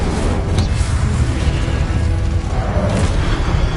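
A fire spell, Incendio, cast in a video game, giving a continuous loud roaring, booming rumble of flame that fills the whole moment with no break.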